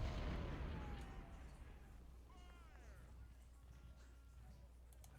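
Cannon artillery fire in the Civil War strategy game Ultimate General: Civil War, a heavy boom decaying into a long low rumble, with faint game effects and distant sounds trailing behind.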